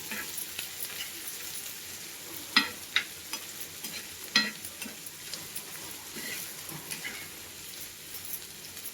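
Onion fries over medium heat in a pan, a soft steady sizzle broken by several sharp spatula knocks and scraping stirs, close by and without speech.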